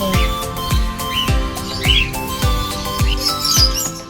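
Caged birds, including budgerigars, chirp and tweet in short bursts over a steady, evenly spaced low thumping at a zoo aviary.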